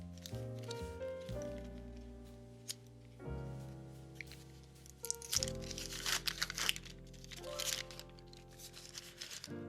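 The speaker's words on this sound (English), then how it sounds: "All right, let's cut up some band-aids." Band-aids being cut up for mechanical keyboard stabilizers, with close crinkling of wrappers and small snips and crunches heard over a sustained tonal background hum.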